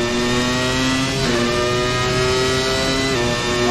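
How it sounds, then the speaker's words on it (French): Williams FW19 Formula 1 engine in Assetto Corsa, a loud continuous high-pitched whine with a couple of quick pitch drops as gears change, close and unbroken, no voices. "Le son, très important le son, dans une F1."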